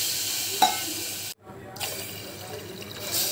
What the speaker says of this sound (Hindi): उसके बाद इसमें हम लोग पानी डाल देंगे।